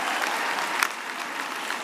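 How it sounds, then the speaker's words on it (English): Applause from the audience at a university graduation ceremony, a steady dense wash of many hands clapping at moderate level, with one sharper burst near the middle and no talk over it. "Another final round of applause for Dr."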